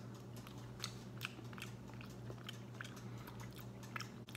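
Biting and chewing of smoked sturgeon, crumbly, dry and salty, heard close up as soft repeated crunchy bites over a steady low hum, with no talking.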